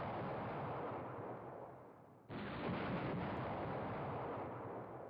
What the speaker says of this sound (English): that'll probably be the last bombardment mission there